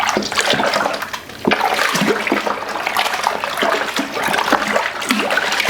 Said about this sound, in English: I'm going to top up with more water